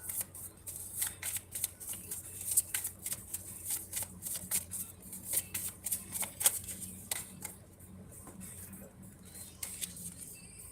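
A deck of cards shuffled close by, with repeated crisp riffles and flicks in an uneven rhythm that grow sparser toward the end, quiet and with no talk.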